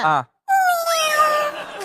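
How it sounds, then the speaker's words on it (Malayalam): A newborn kitten gives a short meow, then after a brief pause a longer, drawn-out meow, both close and clear. "ഇപ്പൊ ജനിച്ച പൂച്ച ഞാൻ കാണിക്കാവേ"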